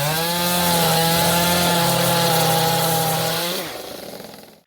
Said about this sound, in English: This is the time where we get the chainsaw out.